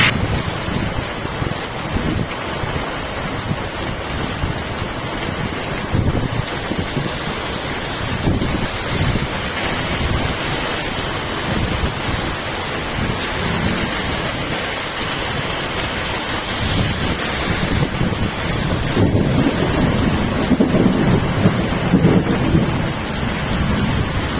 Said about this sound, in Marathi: बिटा व परिसरात मुसळधार पाऊस सोसाट्याच्या वाऱ्यासह प्रचंड मेघगर्जना